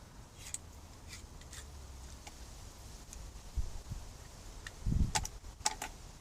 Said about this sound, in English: Cut some floss.